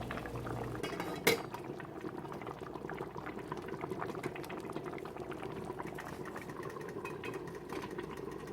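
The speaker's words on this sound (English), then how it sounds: "I'm going to turn the burners on to maximum, bring this all to a boil" Homemade pizza sauce bubbling in a pot on a stovetop burner turned to maximum, a steady, dense simmering hiss with a single sharp clink near the start and no talking.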